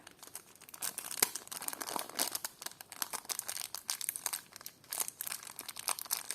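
A small plastic packet crinkling and rustling close by while a parcel is unpacked, with continuous irregular crackles and brief sharper crunches.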